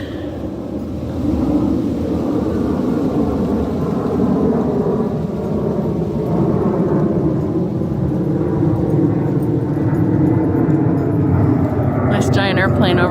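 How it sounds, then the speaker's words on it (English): A large airplane passes overhead, a steady low rumbling roar that holds for the whole stretch, with a brief faint higher sound near the end. "Giant airplane over top of our head here."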